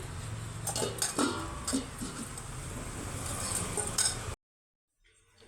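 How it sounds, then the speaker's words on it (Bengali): Metal clinks and scraping of a pot and lid while cooking bhindi (okra) chorchori, several sharp knocks in the first seconds over a steady kitchen hiss, then a sudden cut to near silence. "চাপাটা দিয়ে দিচ্ছি।"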